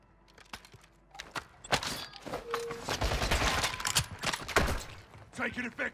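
Rapid bursts of video game gunfire crack through a busy battle, sharp repeated shots layered with thuds and impacts over several seconds, with a voice talking over the action.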